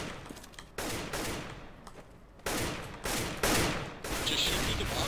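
Rapid gunfire bursts in the CS:GO shooter, loud repeated volleys separated by brief gaps, with sharp shots stacking up toward the end.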